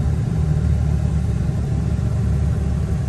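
A Dodge truck cruising at a little over 60 mph, a steady low engine rumble and road drone holding loud and constant throughout with no talk.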